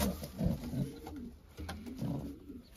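Racing pigeons coo in soft, low repeated phrases at close range, with a couple of bursts spaced across the moment and faint background noise between them.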